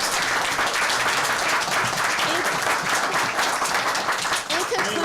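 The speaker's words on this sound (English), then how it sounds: "May we ask people to hold their applause, please?" A community council meeting audience applauds, a loud, dense, sustained clapping with some voices mixed in, steady throughout.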